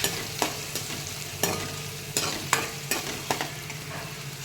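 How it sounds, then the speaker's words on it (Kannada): Onions fry in butter in a pan with a soft, continuous sizzle, broken by repeated sharp scraping stirs of a spoon at irregular intervals; no voices are heard. "ಸೊ ಈರುಳ್ಳಿನ ಚೆನ್ನಾಗಿ ಗೋಲ್ಡನ್ ಬ್ರೌನ್ ಆಗೋ ತನಕ ಫ್ರೈ ಮಾಡ್ಕೋಬೇಕು"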